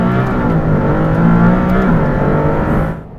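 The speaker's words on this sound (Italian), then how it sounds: "Questa supercar è unica al mondo per il suo sound, che adesso vi faccio assaporare." Maserati MC20 supercar with its mid-mounted six-cylinder pre-chamber engine revs loudly and close, a sustained rising engine note that drops away abruptly at the end.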